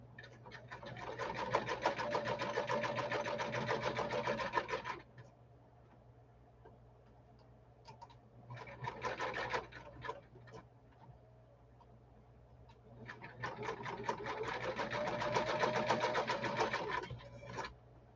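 A Kenmore sewing machine stitches in three steady runs, a long whirring hum broken by pauses and a shorter burst in the middle, close and clear with a constant low mains hum underneath.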